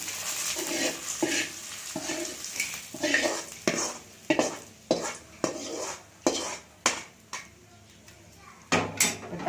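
Thumbai leaves sauté in a pan while a utensil stirs and scrapes against it, producing a steady run of close, sharp clinks and scrapes over a faint background hiss.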